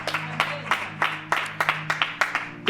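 A church congregation at a worship service applauds, producing a run of brisk, rhythmic group claps spaced evenly, close and fairly loud, with a faint voice or hum underneath.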